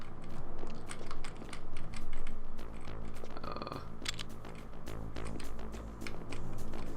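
Computer keyboard keys clattering during play of Metal Gear Solid: The Twin Snakes, a close run of rapid, irregular clicks and taps, with brief game-like tones in the middle.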